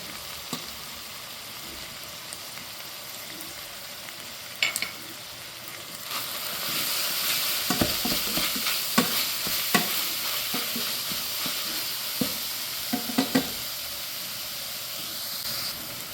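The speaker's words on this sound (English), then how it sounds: "Now that the ground beef and the onions are browned, I'm going to add some minced garlic." Ground beef, onions and minced garlic sizzle steadily in a pan on a home stove, a continuous frying hiss broken by scattered clicks and scraping stirs, with no talking.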